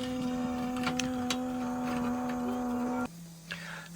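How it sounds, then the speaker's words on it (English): A small pump hums steadily while draining water from an immersion heater tank, a constant tonal whine with faint knocks over it, then it drops abruptly to a lower, quieter drone near the end. "That's all draining, pumping away."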